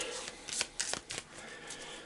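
Board game cards for Shadows of Brimstone shuffled by hand, a run of crisp papery riffles and snaps in close succession over about two seconds, near and fairly loud with no talk.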